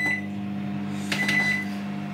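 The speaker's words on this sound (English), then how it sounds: "butter in the microwave, how long do I melt it for?" A home microwave oven hums steadily while melting butter in a kitchen, a constant low electrical drone with a brief clatter partway through; no one speaks.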